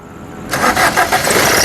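A 2016 Maruti Suzuki Ciaz VDI Plus diesel car starts on the first crank, a brief starter whir bursting into a loud, close engine catch that settles into a steady rough idle.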